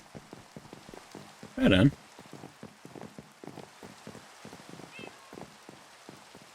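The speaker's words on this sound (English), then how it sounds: "It feels like it's just rained nonstop for like weeks now." Rain falls steadily in Minecraft as a soft, sparse patter of drops hitting surfaces, with one short spoken remark near the start.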